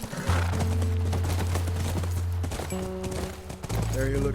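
Horse in the video game The Last of Us, heard as clip-clop hoof sounds with a possible whinny under a low droning score and game effects. Speech is also present.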